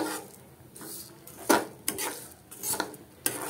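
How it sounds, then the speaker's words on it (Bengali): Mung dal being continuously stirred and dry-roasted in a pan over low flame for sweet laddoos, with scraping and clinking of a utensil against the pan at irregular intervals, close and moderately loud. "এবার এটাকে আমি ভেজে নেব যতক্ষণ না মুগ ডালের কালার চেঞ্জ হচ্ছে"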